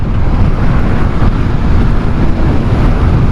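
Strong, steady cold wind on a mountain ghat road near Sonmarg, Kashmir, roars and buffets close against the microphone for the whole stretch, with no voices.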